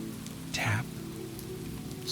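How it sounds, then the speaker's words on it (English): Steady rain falling on a forest path, a soft continuous patter with one brief brighter splash near the start, heard alone. "The rain held its patient falling."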